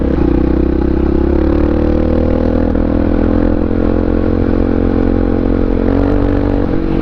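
A 650R motorcycle, running despite a dead battery, rides along with a loud, steady engine drone and rumbling wind, holding a fairly even pitch throughout.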